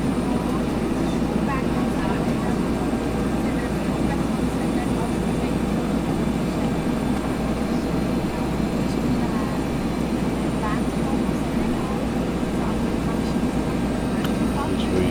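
Steady, loud aircraft engine drone fills the whole stretch with a continuous broadband roar and low hum, unbroken and close, as if heard from inside the plane.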